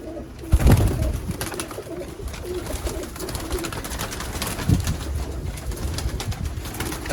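Pigeons coo steadily at close range amid a busy, noisy background in Sialkot, Pakistan, with a couple of louder thumps or flaps early on.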